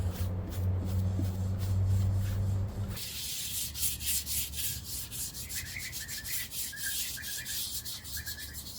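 Flaky old timber is sanded by hand with a steady close rubbing that gives way to lighter, rhythmic brushing and scuffing strokes as dust is cleared off, with no talking.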